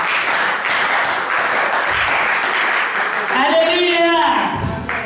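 Church congregation clapping in acclaim of the Lord, steady broadband applause throughout, with a voice rising over the clapping toward the end.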